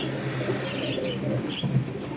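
Domestic flying pigeons on a rooftop loft coo softly in low, rolling bursts, a steady murmur of several birds close by with no talk over it.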